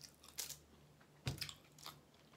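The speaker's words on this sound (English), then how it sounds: "I'm tired of chewing." Close crunching bites and chewing of a taco, a few distinct crunchy bursts separated by quieter mouth sounds, with no talking.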